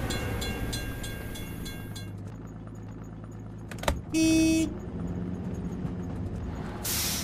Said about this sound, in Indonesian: Gerbang penyeberangan ditutup. Kita harus menunggu hingga kereta lewat.